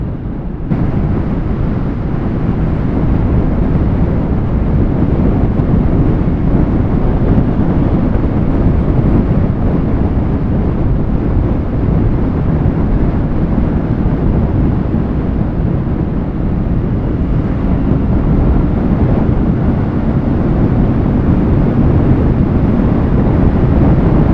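Wind blast roaring past the rider of a Kawasaki Z650 motorcycle on a morning ride, a loud, steady buffeting rush that continues without a break and is heard alone.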